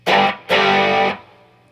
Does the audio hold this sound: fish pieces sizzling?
no